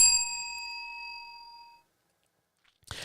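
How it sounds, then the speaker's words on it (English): A desk bell gives a single bright ding that rings out clearly and decays over almost two seconds, followed by silence and then a brief soft rustle. "So maybe I should start leaving the rant bell a little bit closer to the table."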